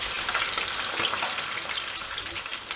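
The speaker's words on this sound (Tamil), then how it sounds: "இப்படி எல்லா சிக்கனையும் நான் பொரித்து எடுக்க போகிறேன்." Chicken wings deep frying in hot oil give a steady, dense, close sizzle and crackle that fills the whole moment without pause.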